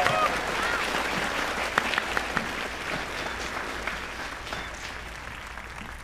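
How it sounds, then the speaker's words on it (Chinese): Audience applause rings out at an award ceremony for a game competition as the presenter, a representative of the game's production team, is welcomed onstage; steady, dense clapping fills the whole stretch and slowly tapers. "掌声有请"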